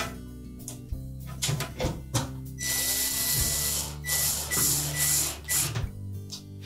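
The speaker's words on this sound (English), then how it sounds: "We'll start by installing the screw through the bottom first." A power driver runs screws into the control box of a Whirlpool range, with several short whirring bursts and clicks of the screws seating, close and fairly loud against a steady low hum.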